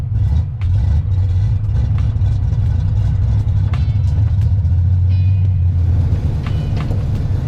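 A vintage Ford Mustang driving on a Death Valley road trip, its engine giving a loud, steady low rumble close by, with road noise and a few light clicks and rattles over it, and no talk.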